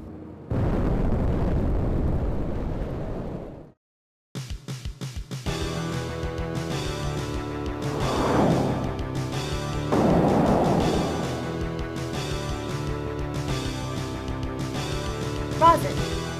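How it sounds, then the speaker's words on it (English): A spaceship launch effect in an animated fandub. A dense roaring rumble runs for about three seconds, then drops to silence, then a sustained layered whooshing roar with rising swells carries on to the end, loud and steady. "Commencing launch sequence."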